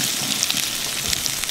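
French toast frying in butter in a big skillet, a steady close-up crackle and hiss with tiny pops throughout, no voices.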